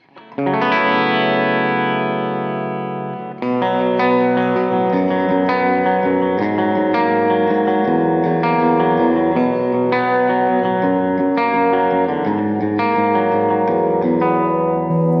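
Distorted electric guitar through a PRS bridge humbucker, played as loud sustained chords and riffs with reverb and chorus, one long ringing chord followed by rhythmic changes, no voices.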